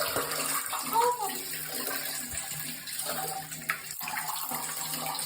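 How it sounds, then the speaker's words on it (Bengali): Water pours and splashes continuously over a doll's head during a play bath, close and steady throughout, with a voice speaking softly in the background. "মাথায় দাও, মাথায় দাও, জল মাথায় দাও।"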